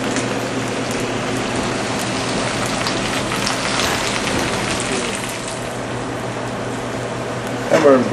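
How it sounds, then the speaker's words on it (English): Spinach wilts in a hot French saute pan with olive oil and garlic, giving a steady, dense sizzle and crackle that runs throughout, fairly close, with a clatter near the end. "we're wilting the spinach down a little bit"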